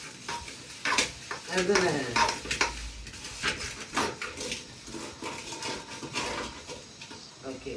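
Greens (keerai) are stirred in a cooking pot: a spoon scrapes and clanks against the metal in uneven strokes over a soft sizzle, and a voice speaks briefly.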